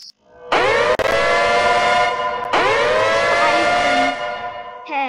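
A loud, sustained wailing siren with rich harmonic layers from the Siren Head video game monster blares twice, each long blast holding steady before a brief break and a second rise.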